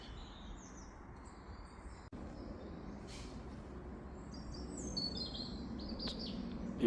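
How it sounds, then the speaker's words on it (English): A robin sings outdoors over a pumpkin patch, with short bright warbling phrases at moderate distance over a steady low rumble of background noise and a faint passing plane. "Beautiful robin singing."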